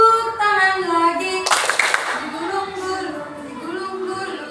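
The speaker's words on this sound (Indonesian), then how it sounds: "Buka tutup, tepuk tangan lagi." Children clap hands along to a classroom action song, a brief burst of claps rising over a teacher's sung voice, which carries on alone after the clapping fades.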